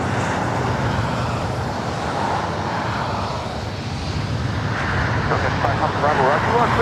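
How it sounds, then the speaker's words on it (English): An Airbus A350 in oneworld livery arriving at LAX, a steady loud jet engine roar with distant traffic noise underneath and a voice talking over it. "All right, the A350 up next for arrival."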